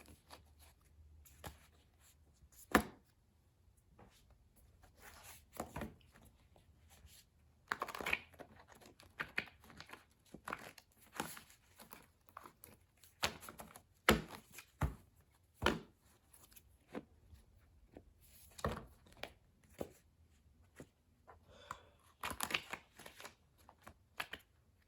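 Tarot advice cards are shuffled and drawn in a quiet room, with soft riffling bursts, slaps and light papery taps scattered irregularly, close and faint.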